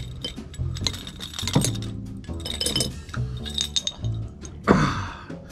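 Beer glasses and bottles clink together during a beer tasting, several sharp glassy chinks and knocks in irregular rhythm, close and clear, with no talking.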